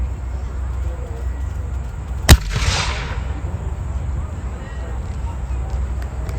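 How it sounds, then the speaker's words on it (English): A Mexican War era infantry weapon fires once at an outdoor Army heritage demonstration, a single sharp loud report followed by a brief rushing echo, then steady background murmur. "the demonstration of the Mexican War unit weaponry"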